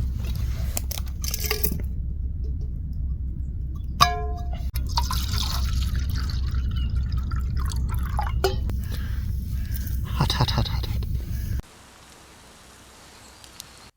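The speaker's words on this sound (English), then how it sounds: "I can't quite believe how quickly that water started boiling." Water boiling in a makeshift pot over a campfire, a steady low bubbling rumble with scattered drips and crackles, cutting off abruptly near the end.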